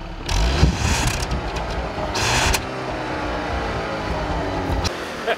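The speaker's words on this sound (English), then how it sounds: "You know, Nathan, I hear more coming from under the hood than I do from the tailpipe." A 2013 Volkswagen CC R-Line with a 2.0 turbo engine and six-speed manual accelerates, the engine note surging loudly in bursts, then settling into a steady cabin rumble.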